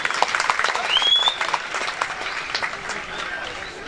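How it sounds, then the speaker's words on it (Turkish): A crowd at a traditional Turkish oil wrestling tournament (Kırkpınar-style yağlı güreş, Kabulbaba) claps steadily for the finalists, a dense wash of applause that swells and then fades slightly, with a faint whistle early on. "Finale giden baş pehlivanlarımıza şöyle kocaman bir alkış yapalım."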